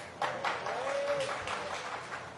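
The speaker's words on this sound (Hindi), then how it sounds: "क्या ताली बजाते हो?" Applause from an audience at a Hindu devotional satsang gathering: a short, moderately loud patter of clapping that swells and fades, with a voice faintly sustained underneath.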